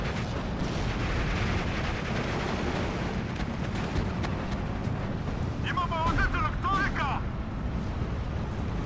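Artillery fire in the WWII strategy game Steel Division 2, a dense rumbling barrage of distant blasts and battlefield noise throughout, with brief whistling tones near the end.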